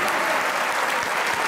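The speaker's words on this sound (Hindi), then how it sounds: "तालियां भाई" Studio audience applause on a Pakistani talk show, dense steady clapping that stays loud and unbroken throughout, with no voices over it.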